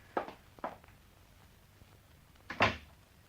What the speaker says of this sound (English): So shut the door.